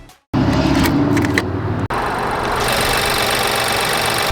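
A 2026 Nissan Rogue SV's 1.5-liter three-cylinder engine runs steadily and loudly close by, with a brief cut near the start and a sharp dropout partway through before the drone resumes.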